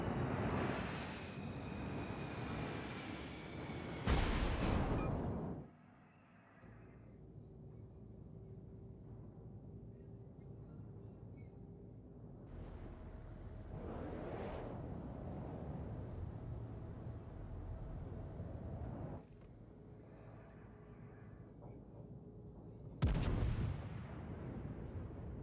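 Naval guns fire in the World of Warships video game, with heavy booming salvos at about 4, 14 and 23 seconds over a steady roar of engine and ambient noise.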